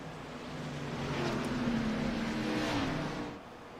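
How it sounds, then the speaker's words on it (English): Stock race cars in a throwback cup series roar as the field goes green, a sustained engine drone swelling for a few seconds then easing off. "We're getting ready to go green flag racing."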